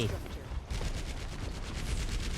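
Gunfire in the Overwatch video game, with the hero Zarya's weapon in play, sounds as a loud, steady run of rapid, evenly spaced shots that starts abruptly after a brief moment of noisy game ambience.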